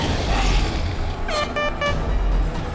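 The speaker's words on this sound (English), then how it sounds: "Looks like all the air horns got used up on you." A loud, brassy air horn sounds in a couple of short blasts over a steady rumble of background noise.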